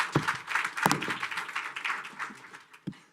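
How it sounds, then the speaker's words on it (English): Audience applause at a Food Day event, a dense wash of clapping from a crowd that swells briefly near the start, holds steady, then thins out toward the end, with a few sharper individual claps standing out. "Give them a round of applause."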